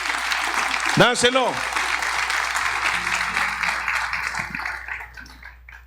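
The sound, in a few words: congregation applauding loudly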